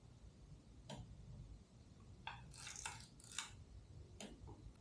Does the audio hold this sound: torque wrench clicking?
yes